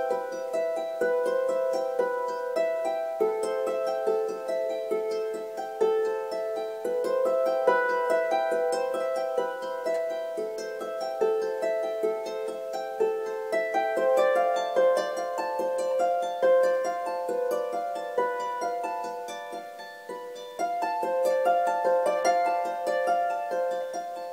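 A double strung harp plays section one of a piece, with bright plucked notes rippling in continuous flowing patterns, heard close and clear without speech.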